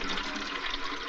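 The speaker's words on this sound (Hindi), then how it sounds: "पानी भर लूं।" Tap water runs steadily into a container as someone fills it up at home in a Hindi film scene, a continuous, fairly close rushing hiss heard alone without any talking.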